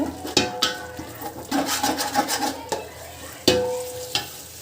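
Green chillies fry in hot oil for chicken pulao, a soft sizzle broken up by the repeated scrape and clatter of a spoon stirring in the pan, close and fairly loud.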